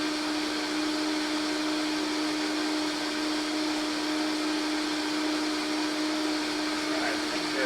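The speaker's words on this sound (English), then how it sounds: "I'm going to be turning the Vitamix mixer on. I'm going to be turning it on to 10 and just letting it mix for about 60 seconds" A Vitamix blender running at speed 10 on a smoothie, a loud steady high-pitched whir with a constant motor drone sustained without change throughout, close up.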